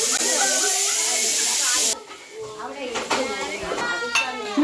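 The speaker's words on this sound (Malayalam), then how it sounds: "നമ്മുടെ ബീഫിനുള്ള ഉള്ളി ഇളക്കുന്ന യുവതി." Onions for beef are stirred in a pan with loud hissing sizzle, then metal scraping and clinking of a utensil against the pan, close by, with voices in the background.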